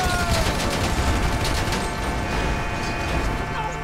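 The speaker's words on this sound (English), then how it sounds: "More shots fired" Rapid, continuous gunfire crackles loudly in a GTA V LSPDFR police mod shootout on a highway, dense overlapping shots with a steady mechanical hum underneath.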